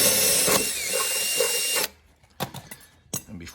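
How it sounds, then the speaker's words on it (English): A power drill bores a pilot hole, whining loudly and steadily for about two seconds before stopping, followed by a few brief clicks and knocks. "I'm going to finish it with this drill bit"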